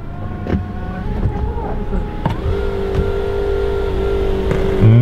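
A large sunroof on a new car slides open with a steady electric motor whir, then a broad rush of air that builds and grows louder by the end, with faint background voices.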